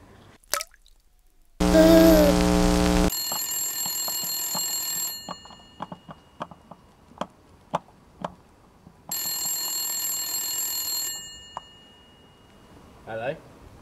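A telephone rings in two loud, buzzing bursts separated by a stretch of scattered dripping and tapping sounds, with quieter pauses around them.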